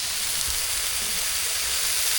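Food sizzles on an outdoor barbecue on a cold, rainy day at a caravan site in Wales, a steady, even hiss with no break.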